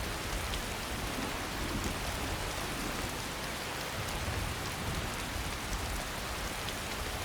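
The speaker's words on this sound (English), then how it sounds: "It's pouring rain!" Pouring rain in the video game Skyrim, a dense, even hiss of heavy rainfall that holds steady throughout at moderate level, with no speech or other sounds.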